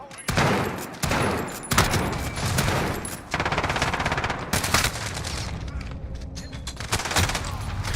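Dense automatic gunfire rattles almost continuously in the shooter Modern Warfare 2, loud and close with a few heavier bursts mixed in, while people talk underneath.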